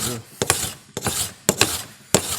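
Sandpaper rubs across the sole of a new hand plane at a 45-degree angle, in four rhythmic rasping strokes, each with a sharp start and a fade, close and alone.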